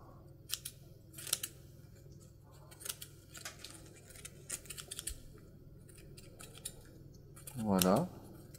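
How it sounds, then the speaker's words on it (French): Scissors snip foliage for a wedding bouquet in a floristry demonstration, giving a scattered series of crisp, light metallic clicks over a quiet background, with a brief louder rustling swish near the end. "Donc vous prenez une paire de ciseaux et vous allez effectuer un mouvement pour former un triangle."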